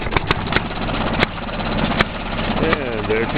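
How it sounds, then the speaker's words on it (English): An old Maytag two-stroke engine runs after a kick start, with a close, steady popping idle and sharp irregular bangs cutting through, while someone talks over it. "here's our Maytag engine"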